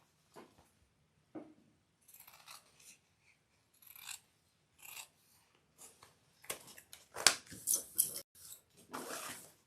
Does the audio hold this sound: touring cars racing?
no